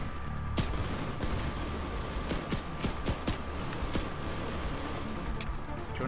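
Turret gunfire in The Division 2 during a firefight: sharp, rapid shots crack out in irregular bursts across a dense, noisy combat backdrop, fairly near and steady in loudness throughout.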